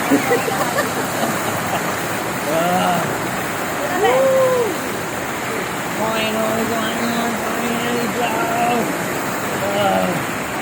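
Cold flowing water, like a stream or small waterfall, rushing steadily throughout a sunny outdoor bathing spot, with people talking and shouting over the constant wash.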